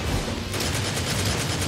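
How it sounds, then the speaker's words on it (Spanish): Rapid gunfire in the action game Devil May Cry 4, a dense burst of repeated shots firing in quick rhythm, loud and continuous throughout with no speech. "lo voy a dar a punta de balazo"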